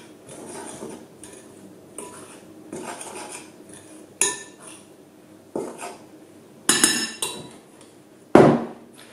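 Bread dough ingredients, flour with dry yeast, are mixed in a bowl, with a spoon scraping and knocking against the sides in irregular bursts that grow into a few sharper clanks near the end.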